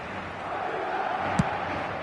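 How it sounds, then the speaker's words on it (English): A stadium crowd roars steadily in an eFootball league match, a broad sustained wall of cheering with one brief thump partway through. "the crowd level has gone up a notch or 10"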